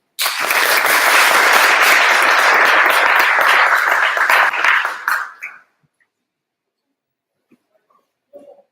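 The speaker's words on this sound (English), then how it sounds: "Round of applause" Dense audience applause at a politics summit greets a panel moderator, an editor from The Economist, loud and sustained for about five seconds before cutting off into near silence.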